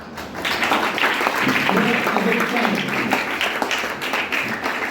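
Students in a school assembly applaud together, a steady, dense wash of clapping that fills the room from start to finish, with voices faintly mixed underneath.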